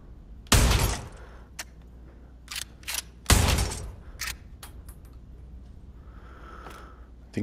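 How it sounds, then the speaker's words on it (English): Reloading a gun in the VR game Pavlov, heard as a few sharp mechanical clacks and snaps spaced across several seconds, with two louder bangs standing out, over a quiet background. "I think I need to reload this, so I'll show you how I'm reloading."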